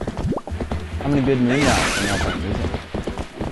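In the Twilight Princess video game, a horse neighs and its hooves clip-clop in a steady rhythm while someone talks over it with game music.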